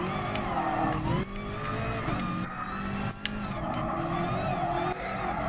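A BMW M6 race car in Gran Turismo Sport howls steadily at high revs, its engine note rising and falling through gear changes with brief tire scrubs, loud and continuous throughout.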